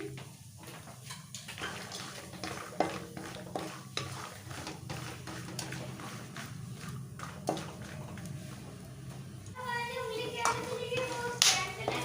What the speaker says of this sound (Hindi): तो हम अपने बादाम भून लेंगे इसी में।